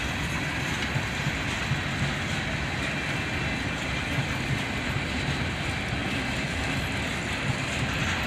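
A freight train rolls past with beat-up covered hopper cars, a steady, loud, continuous rumble and rail roar filling the whole stretch with no voices.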